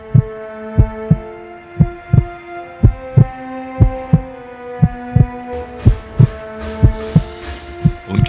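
A steady heartbeat sound effect thumps in paired beats at an even, moderately quick pace, loud and close over a low sustained hum, with no voices.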